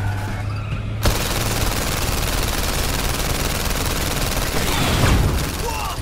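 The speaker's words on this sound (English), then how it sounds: "I'm trying to shoot the tires, but I can't even." Dense, continuous automatic gunfire roars from PlayStation VR Worlds The London Heist as shots are aimed at a car's tires, a loud sustained barrage starting abruptly after a quiet opening and running unbroken to the end.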